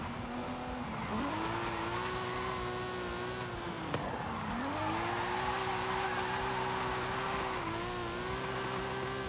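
Car tires squeal continuously while drifting sideways in Forza, a sustained tonal screech that bends in pitch as the engine revs rise and fall, loud and close with no talk.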